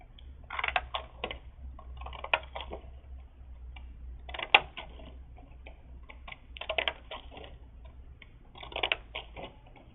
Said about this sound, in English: down that line I'm going to use my decorative scissors